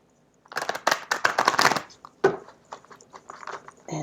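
A tarot deck with an Angel Ariel design is shuffled by hand, making quick riffling flurries of papery clicks and slaps, then a few separate softer taps as cards settle.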